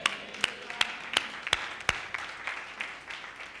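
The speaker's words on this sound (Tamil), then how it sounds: "கைதட்டு பார்க்கலாம்." A congregation at a church promise service clapping hands, with sharp claps landing in a steady rhythm at first, then loosening into softer, scattered clapping that fades out.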